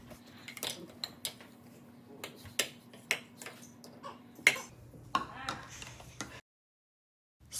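Spoon stirring spices such as nutmeg and cardamom into oatmeal cookie wet ingredients in a bowl, a series of light, sharp clinks and taps at an irregular rhythm, close up, ending in a short silence.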